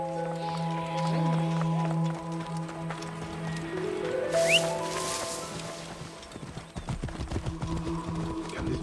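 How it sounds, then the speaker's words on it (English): A horse's hooves clip-clop in the Assassin's Creed Origins Curse of the Pharaohs expansion, entering under sustained orchestral music and growing into a steady rhythmic galloping beat toward the end. "A horse sent by the jackal himself?"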